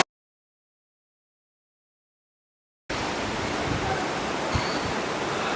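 River water rushing over a drop into standing waves makes a steady, broadband roar that starts abruptly after a stretch of silence and holds even to the end.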